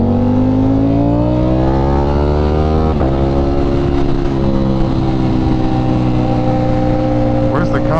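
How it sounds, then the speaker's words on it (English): Loud, close motorcycle engine revving hard beneath a bridge, with a rising then steady roar of stacked harmonics and a brief throttle blip near the end; the bike may be an MV Agusta or Ducati Panigale V4 SP superbike. "rev your engine under the bridge just to hear the sound of your vehicle"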